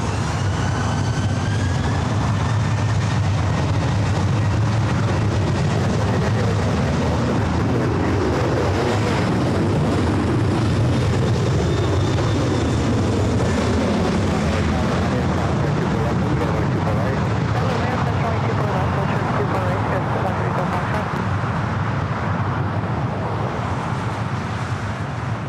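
A Southwest airliner takes off from runway 24 right at LAX, a long loud jet roar with shifting whine as it climbs away, mixed with radio chatter and nearby voices.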